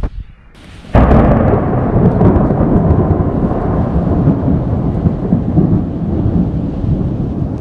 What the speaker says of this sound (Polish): natrafiliśmy na burzę